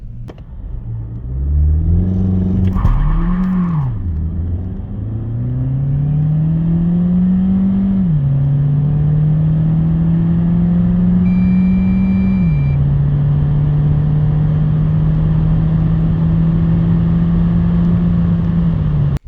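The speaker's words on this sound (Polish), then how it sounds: "W takim razie pora na test przyspieszenia." BAIC Beijing 5 front-wheel-drive SUV accelerating hard from standstill during an acceleration test, engine note rising through gear changes, loud and close, with no talk.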